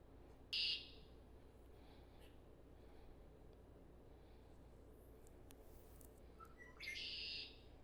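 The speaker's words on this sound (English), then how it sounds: "And then red-winged blackbird. This one has a distinct sound." Two buzzy, trilling red-winged blackbird calls ring out in a quiet outdoor setting, one early and one near the end, separated by faint chirps.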